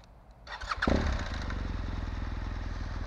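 A BMW GS motorcycle engine is started with a quick crank, then catches and idles with a steady, throbbing rumble close by.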